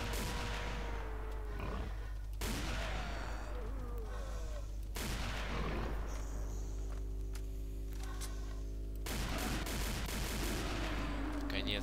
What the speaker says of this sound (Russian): Как и должен убивать полностью улучшенный дробовик